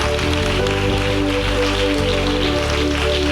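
Steady rain falling, a dense continuous hiss filling the space, with a constant low hum and tonal drone underneath and no pauses.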